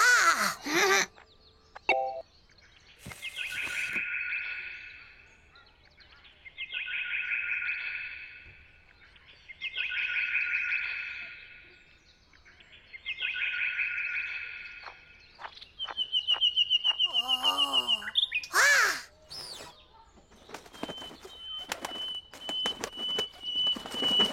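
Chirping calls from a bird in a children's animated school scene, repeated in several sustained trilling bursts with pauses, followed by quick high chirps and whistles.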